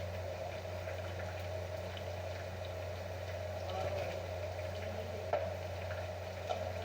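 Whole red chilies and cumin seeds fry in hot oil with a soft, steady sizzle beneath a low constant hum, faint and even throughout.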